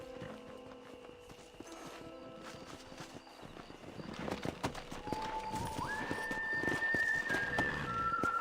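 Horse hooves clop in the Red Dead Redemption video game, a steady walking rhythm that grows busier and louder in the second half, with a whinny-like tone and background game sounds.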